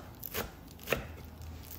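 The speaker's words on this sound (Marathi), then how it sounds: "पालक आणि मेथी जी आहे ती चिरून घ्यायची आणि खूप अशी बारीक नसती" A knife chops fresh spinach and fenugreek leaves into coarse pieces for crispy vada batter, with a few sharp, close cuts on a board in an otherwise quiet kitchen.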